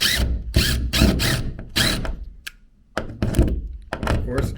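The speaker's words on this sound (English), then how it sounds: "You take your drywall screws and then you put a screw into here." A power drill drives drywall screws into patch backing behind a small drywall hole, in several loud, close whirring bursts separated by short pauses.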